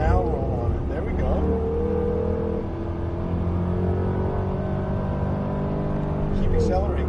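A Jaguar car accelerates on a race track, its engine note rising steadily and loud from the cabin, a continuous drone of climbing revs throughout.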